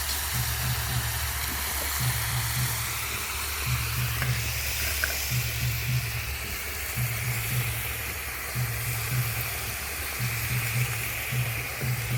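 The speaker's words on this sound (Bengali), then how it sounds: "তাই ভালো করে একটু লবণ দিয়ে কষে নিচ্ছি" Lentils sautéed with salt in a pan for vegetable khichuri give a steady, even hiss of frying, with a low hum pulsing at regular intervals underneath and no talk.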